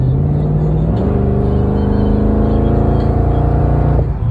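A tuned AMG wide-body Mercedes CL55 engine hums loud and steady while cruising on the road, its tone shifting once as the pitch steps up, heard from inside the car with no talk.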